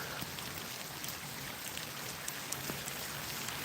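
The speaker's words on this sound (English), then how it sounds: "The only thing about this rain, it shut the geese up" Steady rain falls outdoors during a goose hunt, a dense even hiss with scattered drops tapping nearby, continuous and moderately loud with no talking.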